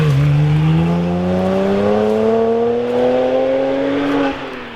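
A BMW 1M Coupé's twin-turbo engine pulls hard and loud from close range, its pitch climbing smoothly for about four seconds before it eases off abruptly.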